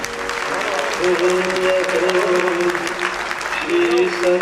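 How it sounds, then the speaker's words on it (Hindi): An audience claps steadily in a large theatre hall during a children's program while a voice speaks over the applause. "तालियां कम है।"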